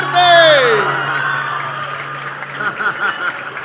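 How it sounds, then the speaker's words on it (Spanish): An audience at a vallenato music gathering answers with a drawn-out whoop followed by a mix of clapping, cheering and laughter, fairly close and lively, with people talking among the crowd. "¡Un aplauso bien fuerte!"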